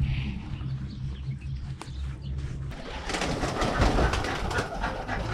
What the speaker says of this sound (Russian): Вот здесь голуби для еды, белые голуби.